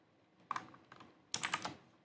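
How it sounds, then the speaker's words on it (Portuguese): Two short bursts of keypresses on a computer keyboard, a few clicks and then a quicker cluster, close and crisp in a quiet room. "digita o nome. Vou botar meu nome aqui."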